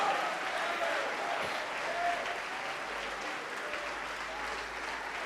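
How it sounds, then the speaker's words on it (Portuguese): A church congregation at a Portuguese-language service applauds in praise, a dense, steady wash of many hands clapping continuously, loud and sustained with no pauses or talk. "vamos aplaudir mais ao nome do Senhor"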